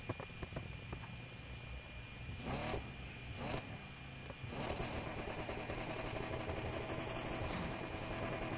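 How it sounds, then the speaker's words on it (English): Engine of a video game car fitted with side exit exhaust on the front fenders, a steady droning rumble that holds through the whole stretch, with a few brief louder bursts early on. "this car I'm using has side exit exhaust on the fenders, the front fenders"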